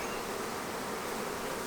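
Honey bees buzzing around a hive, with a dense, steady hum of many insects close by and no break or voices.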